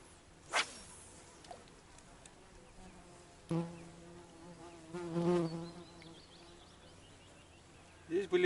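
Mosquitoes and other insects buzzing near a lake beside a village, with faint whining passes and scattered clicks and rustles, quiet and close, while someone talks briefly.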